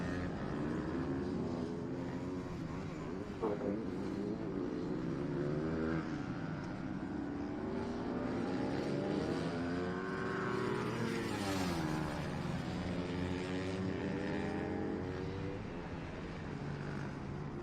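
Supermoto motorcycles at a North American supermoto shootout race, engines droning and rising and falling in pitch as bikes pass around the track, continuous and moderately loud with no talk.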